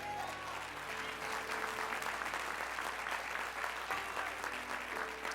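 Church congregation applauding during a sermon, a steady, moderately loud stretch of clapping over held keyboard tones.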